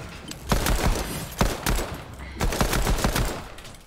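Video game gunfire: several bursts of rapid shots and single loud cracks fire in quick succession, close and punchy, with no talking over them.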